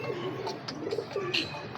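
Pigeons in a loft of fancy breeding birds give soft, low cooing calls in short repeated phrases, close by over a steady background hiss, with a few brief higher chirps mixed in.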